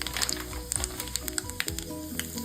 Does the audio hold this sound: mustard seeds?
yes